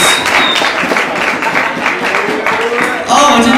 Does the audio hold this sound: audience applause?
yes